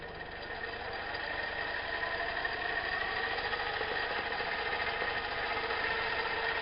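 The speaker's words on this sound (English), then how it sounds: "watch the motor here while I turn this up now" Small mini lathe motor driven by a PWM speed controller, running as a steady close whine with broad electrical buzz that holds fairly constant throughout, no voices over it.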